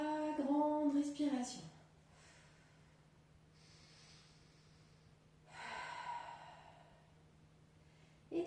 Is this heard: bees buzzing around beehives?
no